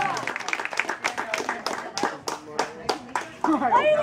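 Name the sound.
audience clapping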